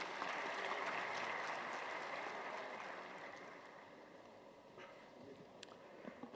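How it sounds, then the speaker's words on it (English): An audience at an AI innovation summit's inaugural ceremony gives a round of applause, moderately loud at first and then thinning and fading toward scattered claps. "Can we give a great round of applause"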